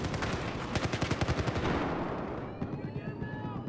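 Rapid bursts of automatic gunfire from the video game Battlefield 4, a dense rattling volley for about two seconds, then scattered shots and game effects fading, fairly loud, with a voice speaking briefly over it.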